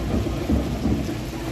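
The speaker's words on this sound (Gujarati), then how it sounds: "વડિયાથી આ તસવીર, જ્યાં વરસાદ પડ્યો." Heavy monsoon rain pours down in Vadia, Gujarat, during a rath yatra, a dense, loud, steady hiss with deep rolling thunder underneath and no voices.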